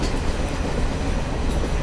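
The Dibrugarh Rajdhani Express, with its 3-tier, 2-tier and first-class coaches, runs at about 85 km/h on the Hajipur route, a loud, steady rumble and rattle from on board with faint wheel clatter.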